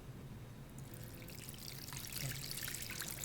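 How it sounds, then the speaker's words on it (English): Brine for Thai chili lime beef jerky pours steadily and gently into a dish, a soft continuous trickle that grows slightly louder toward the end. "I'm going to take my brine"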